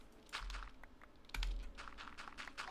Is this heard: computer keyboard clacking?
yes